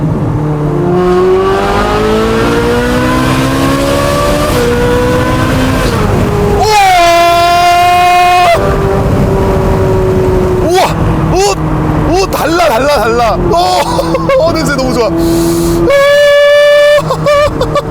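A 15-year-old naturally aspirated supercar engine screams loudly near at hand around 5,000 rpm, its pitch climbing and dropping through repeated surges, while people talk and laugh over it.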